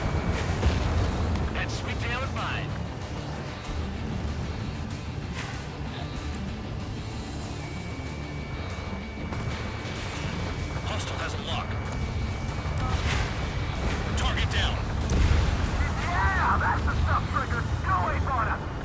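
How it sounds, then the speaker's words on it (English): Explosions and artillery fire in the aerial combat video game Ace Combat 7, a dense continuous rumble of blasts and booming impacts with engine roar, loud throughout, with a person talking over much of it. "Explosion."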